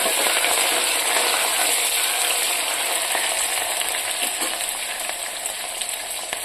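Chopped onions fry in a pan for an eggplant and potato curry, giving a loud, steady, dense sizzle that holds unbroken throughout and eases slightly near the end.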